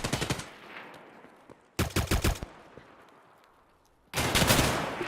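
Three loud bursts of rapid automatic gunfire in the video game Escape from Tarkov, separated by short quiet gaps, each a fast string of sharp close shots.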